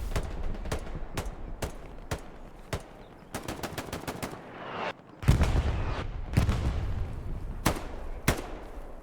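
Rapid gunfire from the World War II shooter Hell Let Loose: sharp rifle and machine-gun bursts crack in uneven clusters, with some heavier booming shots mixed in and a battlefield rumble underneath.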